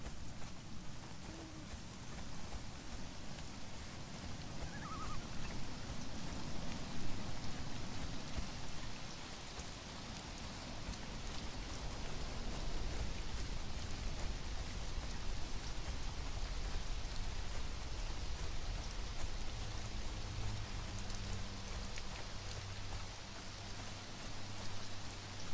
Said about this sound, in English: Oh, now it's raining again.